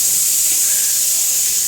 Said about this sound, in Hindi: सीटी लग रही है ना कुकर में।